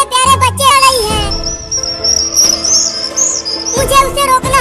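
Birds chirping near a nest in a tree, high bright tweets and trills, with talk and music-like tones before and after.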